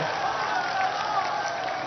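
A large crowd at a Pakistani political rally in Lahore claps and cheers in a steady, dense wash of applause, somewhat distant and unbroken.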